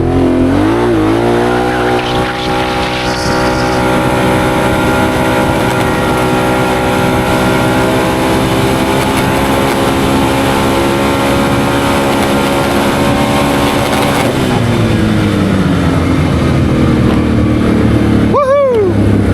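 Can-Am Outlander ATV fitted with a Dalton clutch kit, in two-wheel drive sport mode, revs hard and loud with a steady rising engine whine held for a long stretch before easing off and briefly climbing again.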